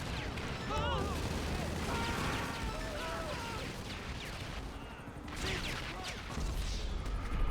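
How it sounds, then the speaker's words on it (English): Chaotic battle noise in GTA Online: bursts of gunfire and booming explosions over a dense rumbling background, with shouts and squeals scattered throughout. "Just ignore the explosions."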